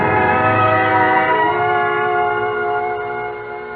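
A train sound effect from a radio drama: a sustained, chord-like horn blares loudly over rumbling rail noise, then slowly fades with no voices.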